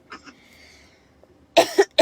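A person coughs: a couple of faint, soft coughs at first, then after a pause three loud, sharp, close coughs in quick succession.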